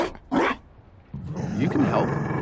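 A dog in the fantasy role-playing game Dragon Age: Inquisition gives a single sharp bark, followed after a pause by a longer, lower rumbling vocal sound.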